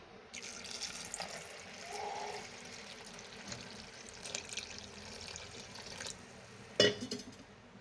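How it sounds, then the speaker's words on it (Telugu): Half a litre of water is poured into a pot holding tamarind, chilli powder, chopped small onion and turmeric for moong dal, a faint steady stream that ends with a sharp clink. "1/2 లీటర్ వాటర్ వేసుకుందాం."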